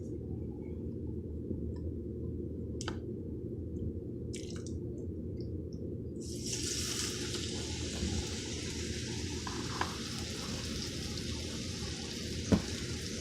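Top round steak sears in a skillet with a steady, even sizzle and crackle that holds low and constant, with a brighter hiss swelling midway and a few faint clinks, no voices.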